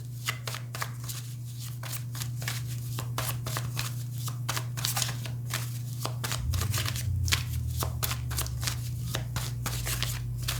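Rapid riffle-and-bridge card shuffling, crisp repeated bursts of snapping cards over a steady low hum, close and continuous.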